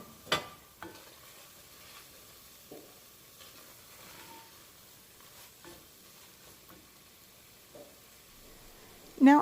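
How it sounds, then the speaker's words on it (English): Meat and sauce are stirred together in a pot with a spoon, soft wet scrapes and faint sizzling spread across the stretch, with louder knocks against the pot at the start and end. "Now I'm going to add the meat right back into the pot. And again, I'm going to combine and mix well."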